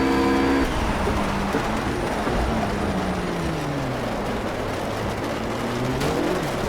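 A loud RUF GT3 racing engine in the video game Project CARS drones continuously at the Catalunya circuit, its pitch dropping and climbing as it slows and accelerates through a corner.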